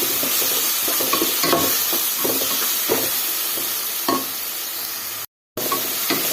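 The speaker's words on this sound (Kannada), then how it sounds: "ಈ ಥರ ಚೆನ್ನಾಗಿ ಫ್ರೈ ಮಾಡ್ಕೊಳ್ಳೋಣ" Coriander powder, chili powder, garam masala and asafoetida fry for dal tadka in a steady sizzle, with repeated scraping strokes of a stirring spoon at an uneven rhythm.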